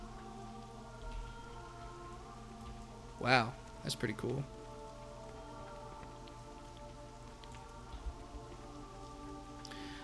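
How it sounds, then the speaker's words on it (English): Soft, steady rain patters through the World of Warcraft game world, a faint continuous wash beneath a brief spoken remark and a low ambient game hum. "And now it's raining."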